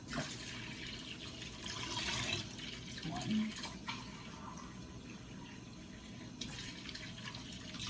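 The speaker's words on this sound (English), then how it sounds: "So now I'm going to add 4 more cups of water." Water poured into a cooking pot for fresh vegetable broth, a steady running pour under a man counting aloud, with kitchen clatter around it.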